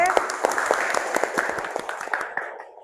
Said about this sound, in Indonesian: Tepuk tangan untuk tim B.